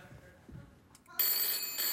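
A telephone abruptly starts ringing at a studio talk show, a loud, bright electronic trill that holds steady after a moment of quiet murmuring.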